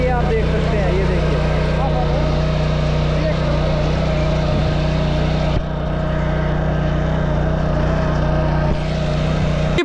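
A cheap mini power tiller ploughs deep into heavy, solid soil, its small engine droning loudly and steadily throughout, with a rough, continuous mechanical rumble.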